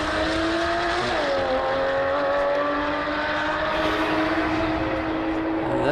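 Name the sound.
Porsche Cayman race car driving past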